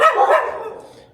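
Dog barking loudly and close in a noisy neighbourhood in Mexico, a couple of sharp barks at the start trailing off into quieter yips, with no talk over them.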